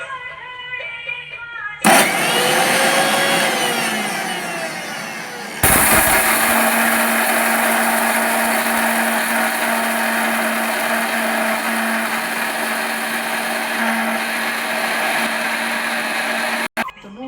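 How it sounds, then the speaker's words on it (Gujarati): A mixer grinder blending spices starts up with a loud whirring roar, briefly stops, then runs again steadily at high speed for a long stretch before cutting off. "હવે મિક્સર કરશું આપણે"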